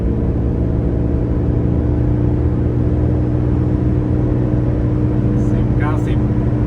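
A Jeep Grand Cherokee WJ with a 4.7 V8 runs on an open road, giving a steady, loud engine drone with strong low harmonics throughout, while someone talks over it.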